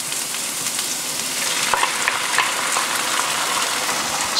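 Egg and rice stir-fried in a hot wok for fried rice, giving a steady, loud sizzle with light scraping and tossing sounds throughout and no talking.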